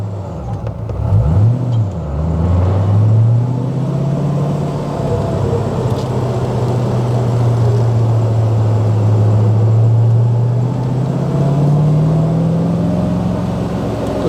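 A 1999 Shelby Series One sports car engine roars close up in first gear, climbing in pitch as it accelerates, then holding a loud, sustained drone before rising again.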